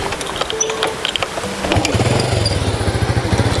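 A motorcycle engine idles, then rises into a loud, throbbing chug as the bike pulls away and keeps running steadily.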